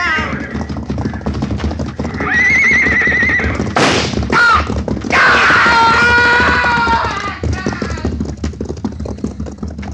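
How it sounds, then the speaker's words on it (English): A horse neighs and whinnies shrilly in an old Gunsmoke radio drama, loud and close, mixed with hoofbeats and shouting voices around a burning hayrick scene. "he's trying to ride the horse out."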